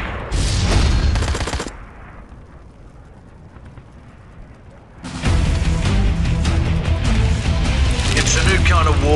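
A sniper rifle shot in the mobile game Sniper X, loud booming gunfire crashing in twice with a quieter stretch between, mixed with game music and effects.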